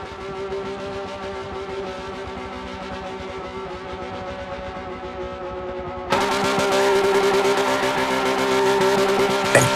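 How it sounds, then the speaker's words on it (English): A race car at a Daytona race event spins out and skids across the finish line. A steady, loud engine drone swells abruptly into a harsher, broader roar partway through. "Oh, he spins across the line for 200 extra points."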